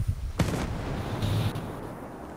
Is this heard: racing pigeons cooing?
no